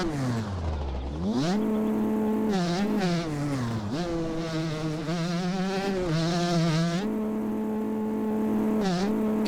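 Two-stroke TM 144 dirt bike engine in a motocross video game, buzzing steadily and close, revving up and down repeatedly through quick throttle blips with no talking.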